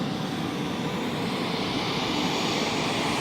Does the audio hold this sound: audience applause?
no